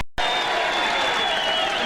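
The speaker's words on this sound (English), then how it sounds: "He's still cheering because Steve Jaros threw a 300 game just moments ago" A bowling crowd at a PBA tournament applauds and cheers loudly and steadily after a 300 game, a dense wash of clapping that starts abruptly and holds.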